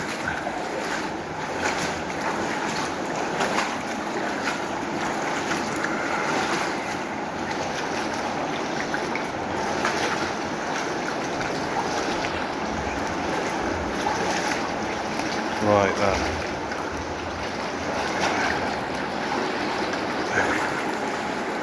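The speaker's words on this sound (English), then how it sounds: "I can hear what sounds like fast flowing water." Fast-flowing water rushes through the underground culvert of the River Frome beneath Bristol, a steady close roar filling the whole stretch, with a brief spoken remark from a man and a few faint knocks.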